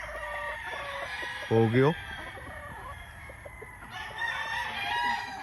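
A yellow-legged Dutch gamefowl rooster crows once, close and loud, a short rising call standing out over farmyard bird noise and people talking on a gamefarm.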